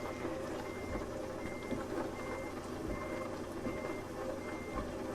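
Truck reversing alarm in Euro Truck Simulator 2, a steady series of repeated beeps over a low engine rumble, continuous and fairly close, with no talking.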